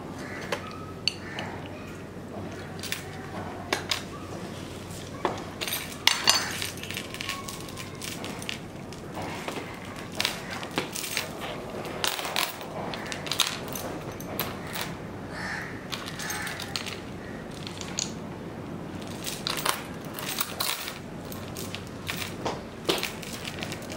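Snow tyre chain links being pried apart with a pipe wrench and a screw wrench, a run of scattered metallic clinks, crunches and rattles of moderate loudness with no talking.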